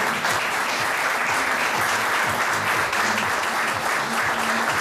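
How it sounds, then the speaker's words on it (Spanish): Sustained applause from an audience at an annual association dinner, dense steady clapping filling the room for the whole stretch, with faint voices mixed underneath. "Fuerte el aplauso para ellos."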